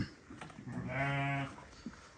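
A single sheep, one of a flock of yellowish sheep kept in a yard in Panfilov district, Kyrgyzstan, lets out a clear, fairly close bleat lasting about half a second.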